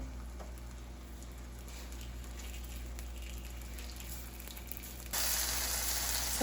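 Chicken frying in butter in a pan, for chicken francese, gives a steady, close sizzle with fine crackling patter, continuing evenly and swelling noticeably louder and brighter as the chicken browns near the end.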